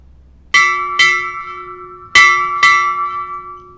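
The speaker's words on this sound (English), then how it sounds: "Strike, 4 bells." A ship's bell rings four clear, loud strikes in two quick pairs, each tone ringing out and fading in a quiet space, during a US Navy retirement ceremony.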